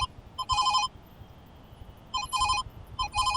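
Telephone ringing on an outgoing call, heard as three bursts of a trilling electronic bell, each about half a second long and spaced about a second and a half apart. The rings are moderately loud over a low background hum.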